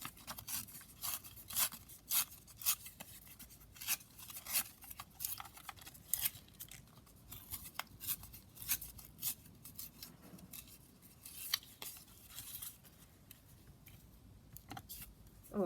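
A vintage card of a lady is torn out from book-page paper, with repeated short ripping strokes in a quiet room, irregular and close.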